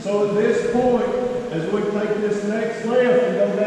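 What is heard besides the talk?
No everyday noises stand out.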